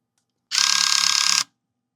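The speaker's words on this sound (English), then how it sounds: "That sounds like there's something in these gears." Nintendo Wii disc drive gears grind in a single harsh, rapid ratcheting burst lasting about a second after the eject button is pressed, close and loud, with silence before and after.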